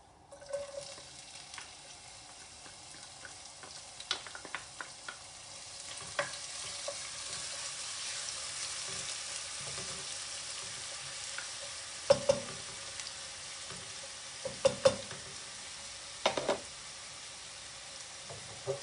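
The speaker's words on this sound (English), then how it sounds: "So now I'm putting in the Onions. chopped onions." Chopped onions fry in a pan for pilau rice, a quiet sizzle building after the first few seconds, with sharp clattering stirs and knocks of a utensil later on.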